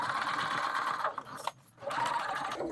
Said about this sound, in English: I'm going to sew up to the mark.